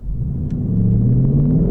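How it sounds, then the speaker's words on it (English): A rental race car roars as it accelerates down a racetrack, its loud close engine rumble climbing steadily in pitch through the short burst with no voices. "Now we're accelerating down the racetrack."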